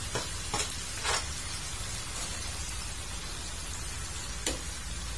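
Sliced bitter gourd stir-fried in a pan over a lowered flame, giving a steady hiss of sizzling oil broken by a few sharp scrapes of a spatula, close by and with no talking.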